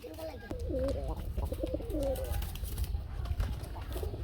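Pet pigeons, red-colored fancy birds sold for free delivery, coo in rolling, repeated calls close by, with a low rumbling background.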